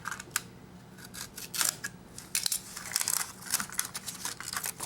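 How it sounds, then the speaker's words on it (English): Utility knife trimming excess paper off a vinyl floor along a putty knife, heard as a quick run of sharp scraping and cutting strokes at close range, irregular in rhythm, with no voices. "I'm going to use a putty knife and a utility knife to trim this off"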